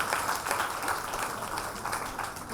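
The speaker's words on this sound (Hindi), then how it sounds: "उनके लिए बहुत जोरदार तालियां फिर एक बार होनी चाहिए" Audience at an indoor talk program clapping together, a dense, even wash of many hands that stays fairly faint and constant throughout, with no voice over it.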